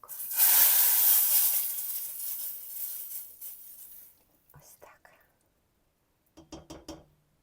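A loud burst of sizzling as meat hits a hot pan, slowly fading, followed by a few quiet clinks of utensils.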